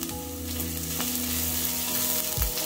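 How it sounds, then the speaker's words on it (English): Onions and garlic sauté in hot oil, a dense close sizzle with stirring clinks and a brief scrape near the end. "Once my oil is hot enough, I'll go in with my onions and my garlic. Then I'm going to saute this till translucent."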